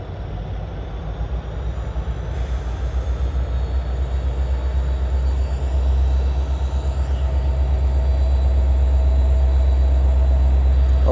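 A loud, continuous low rumble and rhythmic clatter of a train rolling over a bridge nearby in North Vancouver, heard from below, steady and heavy throughout with no voices.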